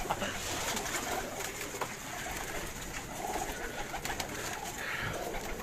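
Pigeons coo continuously among a flock of prized high-flying birds kept by a Karachi fancier, the soft repeated calls overlapping at close range against a busy background with no talk.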